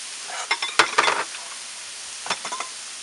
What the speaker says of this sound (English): Got our stir fry vegetables on